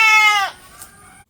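A young cross-bred male goat, about six months old and kept for sale, lets out one loud, wavering bleat close by before it fades into a faint tail, with no talking.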